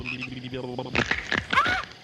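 A frog croaks in a run of rough, rattling calls, close and fairly loud, with no voices over it.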